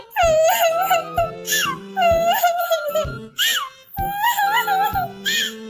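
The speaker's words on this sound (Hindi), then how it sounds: "चिड़िया रोने लग जाती है" A high, wavering wailing cry, an animated-style sobbing voice, in several drawn-out bursts with short pauses, loud and close.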